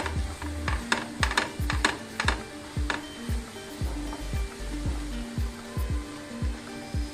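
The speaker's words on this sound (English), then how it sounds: "We need to occasionally stir the ingredients together, the vermicelli as well as the vegetables together, to ensure that they are evenly cooked." Vermicelli and vegetables cooking in a tawa are stirred, giving repeated scraping and clacking strokes over a steady low sizzle at close range, with no one talking.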